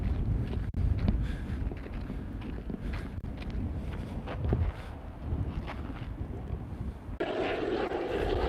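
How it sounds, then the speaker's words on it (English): Strong outdoor wind roars and buffets a microphone in a continuous low, rumbling rush that surges and eases, with occasional gusty thumps and no clear talk. "it is really, really windy today"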